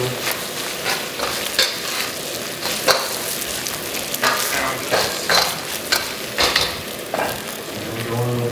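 Butter sizzles and spatters in a hot pan just before rice goes in for breakfast fried rice. A loud, continuous frying hiss runs throughout, broken by repeated crackling pops and stirring scrapes.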